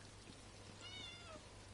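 A cat meows in the video game Elder Scrolls Online, a short rising-and-falling call near the middle, fairly faint over a steady low ambient hum.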